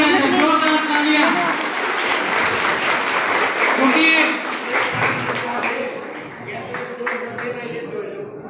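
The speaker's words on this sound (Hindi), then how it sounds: "एक बार जोरदार तालियों से स्वागत किया जाए, जोरदार तालियां" Hearty applause from a crowd welcomes a young singer at an Ambedkar birth anniversary celebration, loud and sustained at first, then thinning out, with a voice speaking and a sung tone heard over it.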